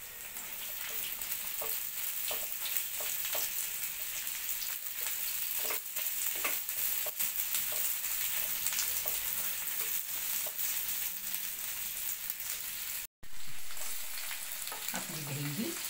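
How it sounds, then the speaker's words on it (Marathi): Okra frying in about three spoons of oil, a steady close sizzle crackling throughout with repeated scrapes and clicks of stirring, briefly cutting out near the end. "ह्या आपल्या ज्या भेंड्या आहेत ह्या आपण चांगल्या परतून"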